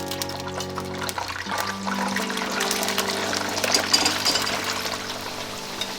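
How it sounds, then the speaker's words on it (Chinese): Pork slices for guo bao rou go into very hot wok oil for a second deep-fry, and a steady, bubbling sizzle rises after about a second and holds over a low background hum. "再复炸第2次。"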